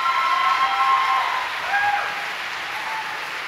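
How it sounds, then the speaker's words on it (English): Sustained audience applause fills a school concert hall, a steady broadband clapping wash with some crowd noise, given in honor of members of the armed services at a high school fall concert. "Applauding again, all of our armed services."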